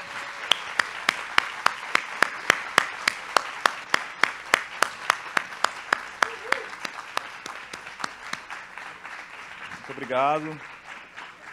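Crowd applause greeting a guest onto a public square stage at a book fair, steady rhythmic clapping throughout, with a voice speaking briefly near the end.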